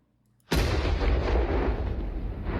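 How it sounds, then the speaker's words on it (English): A distant explosion sound effect: silence broken by a sudden sharp crack that swells into a loud rolling, rumbling roar that slowly fades. "The air suddenly cracked and split with the earth-shattering sound of a distant explosion."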